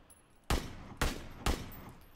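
Three sharp gunshots in PUBG, evenly spaced about half a second apart, each a loud crack with a short decaying tail against a quiet background.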